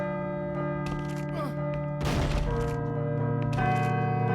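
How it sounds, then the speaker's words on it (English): A church bell in the Call of Cthulhu: Dark Corners of the Earth video game rings with long sustained tones, mixed with a loud burst of thuds and game noise around the middle. "I should let the bell finish ringing first."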